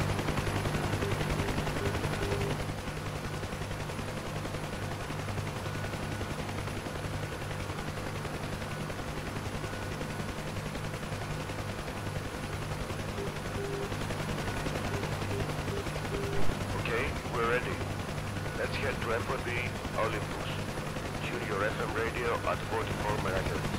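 A helicopter in the DCS World flight simulator holds a constant droning rotor and engine hum throughout, with a low rhythmic thump underneath. Sharper crackling bursts come in toward the end, and a voice talks over parts.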